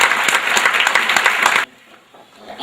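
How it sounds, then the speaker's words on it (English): Audience applause at a political campaign gathering honoring precinct captains: dense, loud clapping for about a second and a half that cuts off abruptly into near silence. "Give them a big round of applause."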